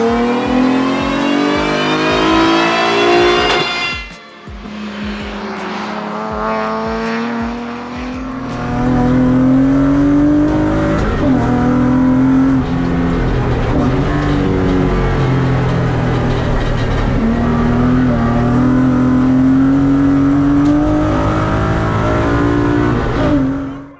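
A finished Mazda MX-5 project car revs hard and close, engine climbing and holding through a loud sustained drone after a brief dip, with rising and falling pitch sweeps as it pulls.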